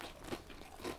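Two close, crisp crunches come about half a second apart as someone bites into warm baked keto zucchini fries, with faint chewing noise between the bites.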